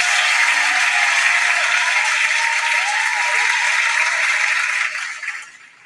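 A canned applause sound effect, a long run of crowd clapping played loud and close, stays dense and steady for about five seconds before quickly fading out.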